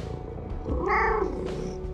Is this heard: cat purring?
yes